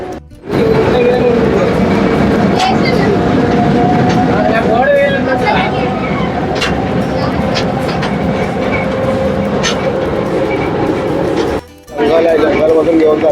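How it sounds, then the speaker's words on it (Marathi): A toy train runs through the forest at Sanjay Gandhi National Park in Borivali, with a loud, continuous rumble and rattle of the cars, clicks over the track, and people talking throughout. "जंगल मधून घेऊन चाललंय ट्रेन"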